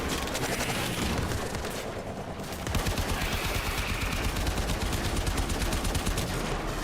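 Sustained rapid gunfire in the Warframe video game while the character jumps sideways, dense and loud, continuous machine-gun-like bursts with booming impacts filling the whole stretch.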